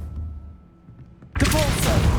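Arresto Momentum spell cast in the video game Hogwarts Legacy: quiet game ambience, then a sudden loud whooshing magical burst that sustains with a shimmering, rumbling swell to the end.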